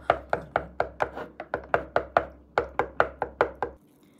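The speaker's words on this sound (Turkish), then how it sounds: "Suyun içinde jelimizi bir güzel çarpalım." A spoon or whisk beats collagen gel into a glass of water: a fast, even run of about sixteen sharp clinks against the glass over four seconds, close and clear, then a sudden stop.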